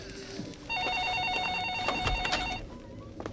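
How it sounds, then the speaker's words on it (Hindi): A telephone rings with a rapid warbling electronic trill, one sustained burst of about two seconds, fairly clear over a quiet room background. "फोन बज रहा है।"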